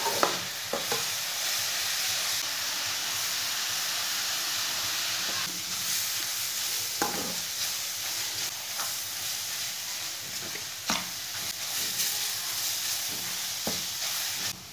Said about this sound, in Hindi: ऑयल डाल के 3-4 मिनट तक इसे भून लेना।